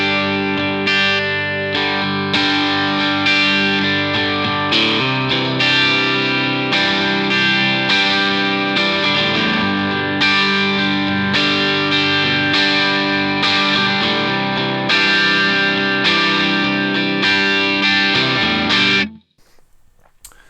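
Electric guitar chords through a Vox AC30C2 valve amp ring out loud and sustained with a gritty tone, several strums in sequence, then cutting off abruptly near the end.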